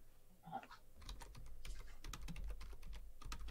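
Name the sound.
typing on a computer keyboard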